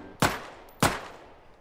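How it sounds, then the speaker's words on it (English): Two sharp gunshots ring out in a survival video game, about half a second apart, each with a crisp crack and a decaying tail, heard alone without talk. "I hear gunshots over here somewhere"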